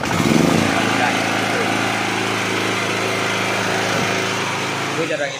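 A TGR5000 3000-watt generator engine starts with a brief sputter and then runs at a steady, buzzing drone, loud and close for several seconds.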